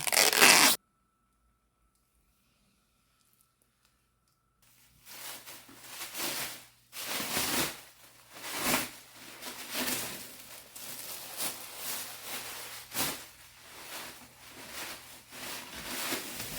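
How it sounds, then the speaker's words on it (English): Protective plastic film is peeled and crinkled off new Onyx RCR lights in a series of close, scratchy rips and rustles after a brief silent pause, with no voices. "let's get some of this plastic off the lights here"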